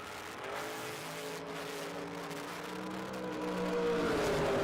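Several race cars, among them a Camaro, roar around a racing circuit at close range, engines droning steadily with rising pitch and building loudness toward the end, no voices over them.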